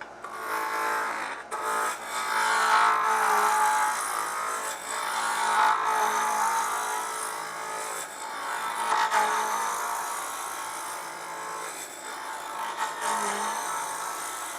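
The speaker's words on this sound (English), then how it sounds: "We'll start out with a spindle roughing gouge." Hard maple spins on a wood lathe as a spindle roughing gouge cuts it from square toward a cylinder, giving a continuous scraping, hissing cut with intermittent heavier bites and brief pauses, steady and fairly close.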